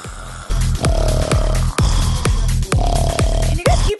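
Several people snoring together in a rhythmic pattern, loud close nasal rasps repeating about every half second, a comedic imitation sung like vocals in a studio.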